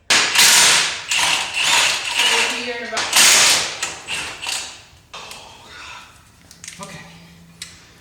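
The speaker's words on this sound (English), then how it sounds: "I'm taking the bolts out and I'm just disassembling the clutch" Ratchet wrench removing bolts while disassembling the clutch of an OBS Ford F350 with a 7.3 engine, giving quick runs of close, sharp clicking bursts that fade toward the end alongside other light shop noise.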